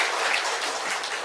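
Applause from a church congregation during a sermon, a steady wash of many hands clapping at moderate level, continuous and dense with no distinct individual claps.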